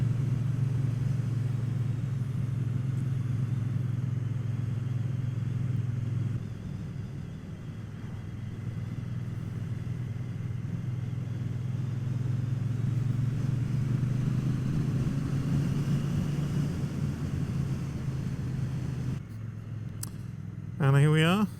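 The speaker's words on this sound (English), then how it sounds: "even lovelier to be on the Triumph Bonneville on roads like this" A Triumph Bonneville motorcycle rides along open Isle of Man roads, its engine a steady, close, low drone with wind rush that eases and builds again, ending in a brief clatter.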